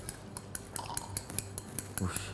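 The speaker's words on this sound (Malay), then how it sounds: "Okey, sekarang ni kita nak kacau dulu." A glass rod or spoon clinks rhythmically against a glass beaker as a green salt solution is stirred in a school science lab, giving bright repeated taps roughly every fifth of a second, with faint voices underneath.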